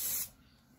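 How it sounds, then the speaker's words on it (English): An aerosol can sprays a second coat of paint onto old dumbbells in one short, loud hiss that cuts off quickly, leaving faint room noise. "keeping the paint moving when spraying"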